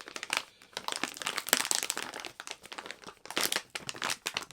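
A stiff resealable Skull Crusher coffee bag is pulled open at close range, giving a quiet, irregular run of crinkling and crackling bursts with brief pauses.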